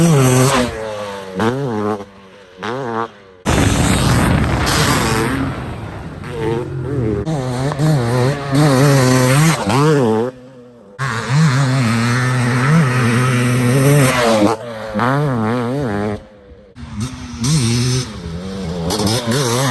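Open-class 500cc two-stroke dirt bikes, a Suzuki RM500 and a counterbalanced Honda CR480, rev hard and loud up close, with rising and falling throttle sweeps broken by short pauses, running continuously without talk.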